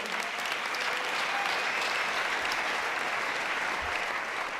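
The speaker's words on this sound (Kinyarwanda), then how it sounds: "Wikomera amashyi bene data." A church congregation applauds during a sermon, a steady, even wash of many hands clapping that sounds somewhat distant and continues unbroken throughout.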